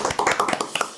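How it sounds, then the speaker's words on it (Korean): A studio audience or radio show crew gives a short round of applause, a quick burst of many overlapping hand claps lasting about a second. "박수 한번."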